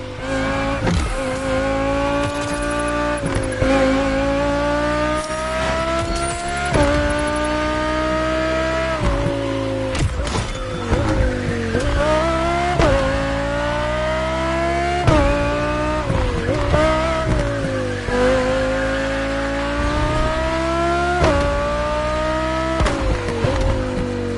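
Race cars in The Motor Fest driving game, engines loud and close with harmonic whine climbing through repeated gear shifts, dropping and rising again for the whole stretch, with occasional tire squeal.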